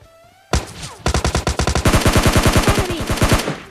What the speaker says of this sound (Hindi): यहाँ पे पीछे भी गोलियाँ चल रही है